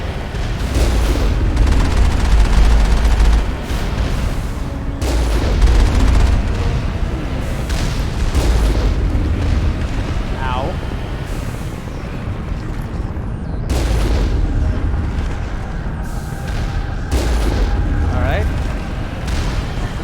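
A heavy human-built turret fires in the video game Mass Effect, sending out a series of loud, booming shots at irregular intervals over game noise.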